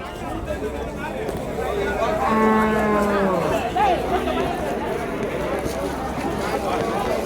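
Cattle moo at a busy Vaniyambadi cattle market in Tamil Nadu, one long low call rising over steady crowd chatter and scuffling, with people talking nearby throughout.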